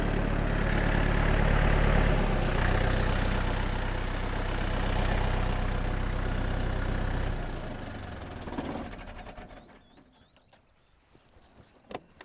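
A tractor engine idles with a loud, low knocking rumble, then shuts down and fades, leaving quiet with a few faint clicks.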